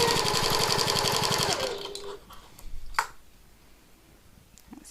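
A sewing machine stitches a tote bag strap in a fast, steady run of needle strokes for about two seconds, then stops, followed by a few faint handling clicks and thumps.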